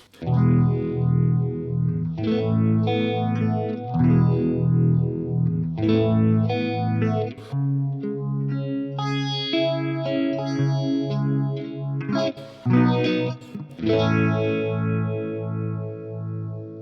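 Strummed electric guitar chords run through an MXR Phase 90 phaser pedal at a moderate speed, giving a steady whooshing swirl that rises and falls across the ringing notes.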